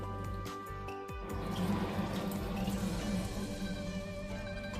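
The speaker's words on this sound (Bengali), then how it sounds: "এরপর এটার মধ্যে আমরা একটু জল দিয়ে দেবো" Water poured into a pan while cooking a curd-style catla fish curry, a short gentle splash and trickle over a steady low kitchen hum, with no talking.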